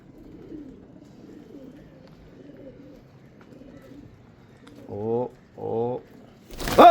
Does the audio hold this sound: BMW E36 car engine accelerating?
no